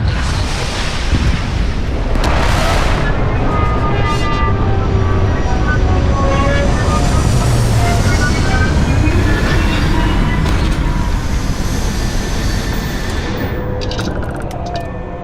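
A spaceship descends to land in the video game Starfield: a loud, sustained engine roar and rumble with rising tonal whines, steady throughout, with no talk.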